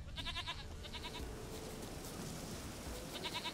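Goat bleats in The Witcher 3, several quavering cries at the start, again near the middle and at the end, soft and moderately close over low background rumble.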